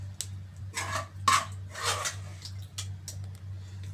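Mixed vegetables tipped into a pot of Hyderabadi vegetable biryani and spread around, giving a few soft clattering, rustling bursts close by over a steady low hum, no talking.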